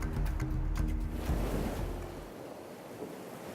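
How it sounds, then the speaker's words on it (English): Ocean waves wash on Puri beach, a loud rumbling surge with wind buffeting that fades to a softer hiss as the wave recedes. "the Puri beach, known for its playful waves, tasty catch, and shimmering sands"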